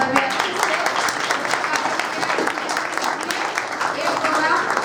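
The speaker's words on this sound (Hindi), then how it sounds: "वैसे आप सबको तालियां बजाए स्मार्ट भैया के लिए" Audience clapping fills a church hall at a senior citizens' prize distribution event, a dense, steady patter of many hands lasting throughout with a voice or two mixed in.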